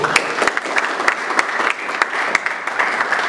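A church congregation claps together during a worship service, the sound loose and crackling, with sharp individual claps standing out over a continuous wash of hands at moderate loudness and no voices.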